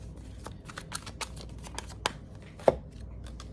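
Tarot cards being shuffled and drawn from the deck, a quiet close series of crisp flicks and slaps at an irregular pace, with one sharper snap near the end.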